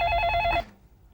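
A telephone bell rings in a short burst of bright, steady electronic tone for about half a second, then cuts off, leaving a quiet room.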